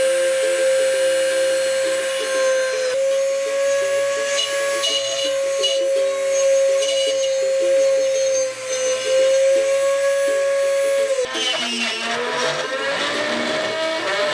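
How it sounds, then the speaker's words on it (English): A router's high, steady whine cutting an F-hole into mandolin wood, with a fluctuating, grinding edge and a shift in pitch near the end. "the idea is to create an F-hole by routing it out like that"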